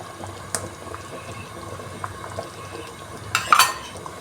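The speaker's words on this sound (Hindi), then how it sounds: "हम 2 एग्स को अच्छी तरह फेंट के इसमें ऐड करेंगे।" Beaten eggs being added to a thickening chicken corn soup in a pot, with soft bubbling and stirring sounds. A couple of clinks of a spoon or utensil against the pot stand out, the clearest one near the end.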